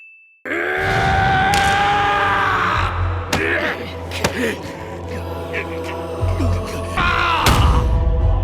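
A man lets out a prolonged, strained scream of rage, rising and breaking into groans, with thuds and sharp impacts around it.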